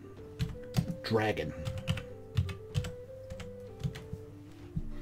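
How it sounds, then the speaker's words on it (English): Computer keyboard typing in short bursts of clicks under a man's speech, entering a search into an outfit filter on a PC. "I'm typing in WWB"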